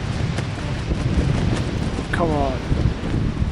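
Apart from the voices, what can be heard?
wind on a foggy Alaskan hilltop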